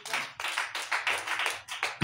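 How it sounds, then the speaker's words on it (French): Congregation in a church clapping in praise of the Lord, about a dozen loud, rhythmic claps in steady unison close by, with voices faintly underneath. "Applaudissez-vous le Seigneur."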